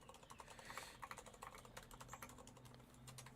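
Quick, quiet typing on a computer keyboard: a steady run of soft key clicks at close range with no voices.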